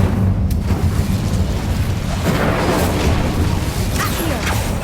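A fiery Incendio spell blast from Hogwarts Legacy roars loud and close, a dense sustained burst of crackling energy filling the whole moment with no voices.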